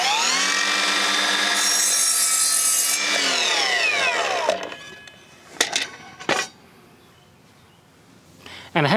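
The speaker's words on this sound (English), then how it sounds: "Let's whack a mitre saw and do a cut on that." A mitre saw slicing through wood: a loud whining motor and a rasping cut for several seconds, then the blade spins down, followed by a few knocks and clatters in a small workshop.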